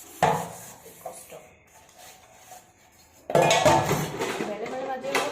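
Pots, pans and dishes being scrubbed and rinsed by hand: a clattering burst near the start, quieter scraping and clinks, then a louder, sustained stretch of washing noise, with some speech faintly present.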